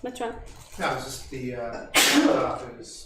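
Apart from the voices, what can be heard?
sneeze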